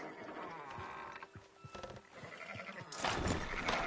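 Sheep in Red Dead Redemption 2 bleat in a few wavering calls at middle distance over faint ambient noise, followed by a louder rustling, broadband wash near the end.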